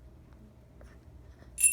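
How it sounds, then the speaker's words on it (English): A small bell, like a bicycle-style bell, gives a short bright ring at the very end after near silence. The ring is close and fairly loud and lasts only a moment. "Look, it's a bell."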